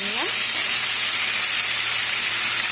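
Half a kilo of green mango pieces fry in oil for a sweet-and-sour chutney, giving a loud, constant close-up sizzle and hiss that runs without a break.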